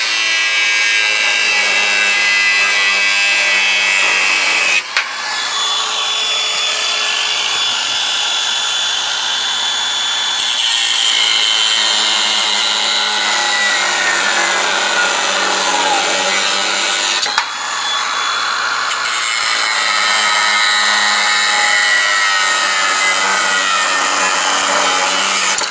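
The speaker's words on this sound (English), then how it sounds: "what I did there is cut off those stupid big long bolts" Long bolts on a Ford CLT9000 cabover truck being cut off with a power tool, a loud continuous grinding whine that runs steadily for nearly the whole span, with two short breaks where the cutting pauses before resuming.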